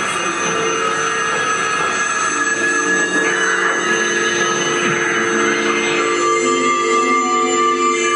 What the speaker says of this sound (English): This was the ringtone, which you heard a little bit earlier.